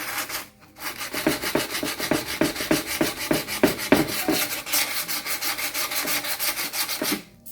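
Sandpaper rubbing over a painted mermaid figure, steady rhythmic back-and-forth scratching strokes close up, dense and even, with a brief pause near the start and no talking.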